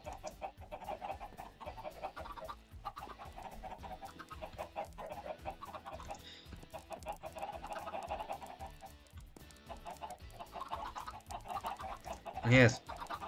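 Chickens cluck repeatedly in the survival video game Sky Odyssey, with steady game background noise throughout and a louder cluck near the end; a voice talks over part of it.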